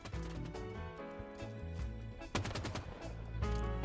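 An enemy turret in a shooter video game fires a rapid burst of synthetic gunshots, with dense, loud repeating blasts and no talking.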